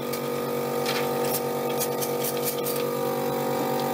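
Vacuum pump running steadily under a Büchner funnel during gold-recovery filtration, a continuous mechanical hum with fixed tonal lines and a faint hiss, close and unbroken throughout.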